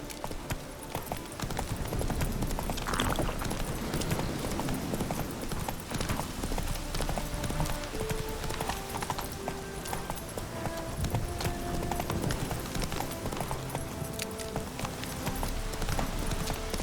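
Horse hooves clip-clop steadily at a gallop through the whole stretch, loud and close, inside The Witcher 3 video game, with music and ambient game sounds layered underneath.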